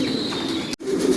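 Racing pigeons coo steadily at close range in a loft, a continuous soft burbling broken by one brief gap.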